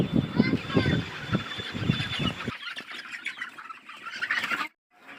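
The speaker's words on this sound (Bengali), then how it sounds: "মুরগি ধরার চেষ্টা করতেছি ধরতে পারতেছি না" Sonali chickens cluck and squawk in a short flurry while someone tries to catch them, loud and close for the first half before giving way to thinner scuffling and fainter calls.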